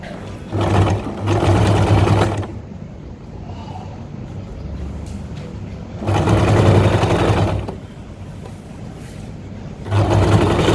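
A sewing machine stitching trousers, running in three loud bursts of rapid mechanical whirring separated by quieter pauses, close to the microphone with no talking.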